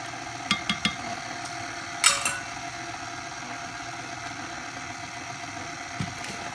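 An electric mixer beating Oreo cheesecake batter, a steady mid-pitched motor hum that runs throughout, broken by a few sharp clicks and knocks near the start and middle.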